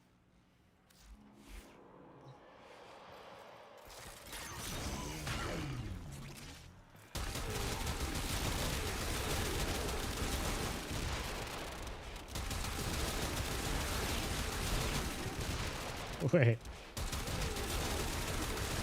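Bomblet explosions in the game Warframe crackle in dense, continuous bursts like a fusillade, loud and sustained with one sharper blast near the end and a voice briefly speaking.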